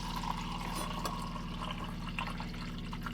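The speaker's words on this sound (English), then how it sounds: "let's chuck some water in here" Water pours into a pot of rice in a small RV kitchen, a faint splashing trickle beneath a steady low hum.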